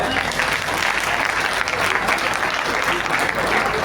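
Crowd at a Hindi poetry recital (kavi sammelan) breaks into loud, sustained applause, a thick, even roar of many hands clapping at once with no pause.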